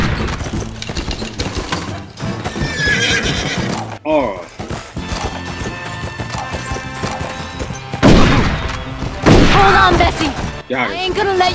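In the Western video game Red Dead Revolver, a horse whinnies loudly several times over rhythmic clip-clopping hooves, with gunshots and crashes breaking in and voices talking over the action.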